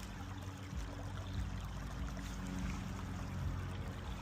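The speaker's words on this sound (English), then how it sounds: "Listen to the water." A creek flows steadily during a cleanup, its water a continuous rushing wash with a low rumble, close and even throughout, with no talk.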